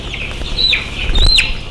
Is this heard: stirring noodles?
no